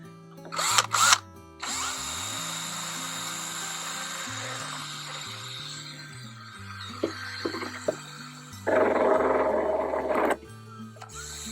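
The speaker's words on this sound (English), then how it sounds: "I'm just going to switch over and try a drill briefly." A power drill with a Saburrtooth bit skins a gourd, whirring in short bursts, its motor pitch stepping up and down, with a louder grinding stretch near the end.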